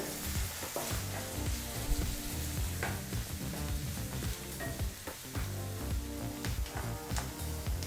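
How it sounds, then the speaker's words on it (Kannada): Green chillies and onions fry on a low flame, giving a steady, close sizzle with scattered crackles and occasional stirring scrapes throughout, with no talking. "ಈಗ ಹಸಿಮೆಣಸಿನ್ಕಾಯಿ ಮತ್ತು ಈರುಳ್ಳಿನ ಮೂರರಿಂದ ನಾಲ್ಕು ನಿಮಿಷ ಲೋ ಫ್ಲೇಮಲ್ಲೇ ಚೆನ್ನಾಗಿ ಫ್ರೈ ಮಾಡ್ಕೋಬೇಕಾಗತ್ತೆ"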